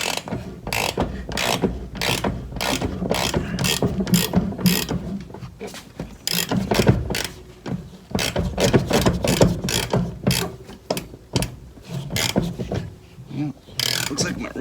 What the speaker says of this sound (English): Looks like my wrench is getting stuck